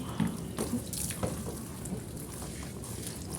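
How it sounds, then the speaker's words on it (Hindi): Water runs steadily as a tub is rinsed and washed out after wheat grains have been soaked in it, a continuous splashing flow with a few brief knocks and clatters, close by. "मैं टप ना धो दूँ।"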